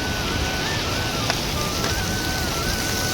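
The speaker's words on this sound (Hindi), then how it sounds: "ये ऐसे यहाँ पे बहुत तेज पानी का झरना है ऐसे ऊपर से" Strong waterfall pouring down from above beside the mountain trail at Kedarnath during the rainy season, a steady, dense roar of rushing water that fills the whole clip at close range with no pause.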